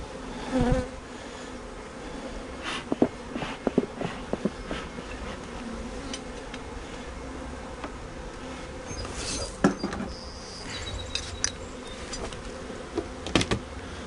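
Honey bees buzz steadily at an open hive colony during a beekeeping inspection, a dense close hum with individual bees flitting past the microphone and occasional soft knocks and clicks of handling.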